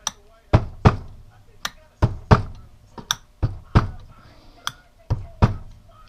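A socket taps down the wads in 12-gauge shotgun shells loaded with powder-coated 00 buckshot, giving a series of sharp, close, moderately loud knocks at an uneven pace, sometimes in quick pairs.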